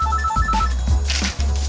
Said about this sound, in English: My mate's ringing me on my mobile.